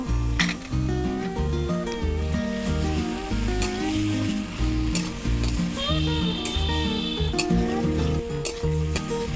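Pieces of rohu fish with salt and turmeric sizzle steadily in oil in a frying pan while being turned and stirred, close and loud, with a few light clinks and a voice briefly audible over the frying.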